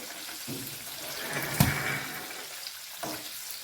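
Steamed amla gooseberries are stirred in a pan over a very low flame, with a soft frying hiss and a few short spoon scrapes at irregular intervals and no speech.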